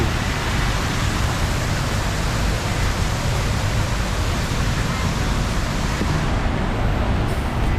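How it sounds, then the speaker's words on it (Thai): A waterfall at the Siam Paragon mall in Bangkok in the evening gives off a constant, dense rushing roar. The sound is loud and close and stays steady throughout, with no clear voices. "น้ำตก"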